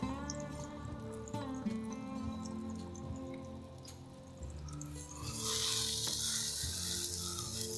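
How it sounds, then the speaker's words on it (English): Salisbury steak patties browning in a frying pan, a steady close sizzle with a faint hum beneath, swelling into a louder, hissier crackle in the last few seconds, with no talking. "we're just going to go ahead and brown these on each side"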